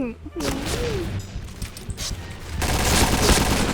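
Rapid gunfire from a Thai online shooter game rattles through the clip in dense bursts, growing louder and more sustained toward the end, with game sounds layered over it.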